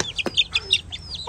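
Young chicks chirp and peep in a rapid string of high, thin calls near a farmyard, close and clear, with a low background hum and no talking.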